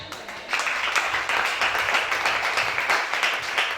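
A church congregation bursts into loud, sustained applause, many hands clapping together in a dense, steady wash with faint voices mixed in.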